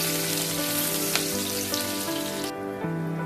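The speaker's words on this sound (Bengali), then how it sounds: "দিয়ে দিব পেঁয়াজ কুচি। পেঁয়াজটাকে আমি বেশিক্ষণ ভেজে দিব না," Chopped onion frying in a pan over medium heat, a loud, steady, dense sizzle with a few faint clinks, close and continuous throughout.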